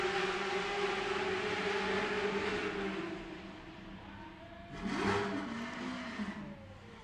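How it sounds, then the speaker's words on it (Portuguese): Stock Car race cars accelerating together at a race start in Goiânia, a loud broad engine roar that swells and fades with a passing surge near the end, no talk. "E lá vão todos os carros da Stock Car acelerando aqui em Goiânia."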